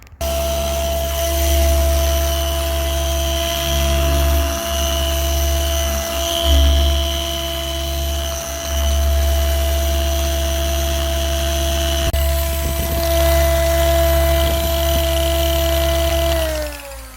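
A car polishing machine buffs scratches out of a Hyundai Maxcruz's paint, its motor whining steadily and loudly up close for the whole stretch, with small dips in pitch and load as the pad moves over the panel.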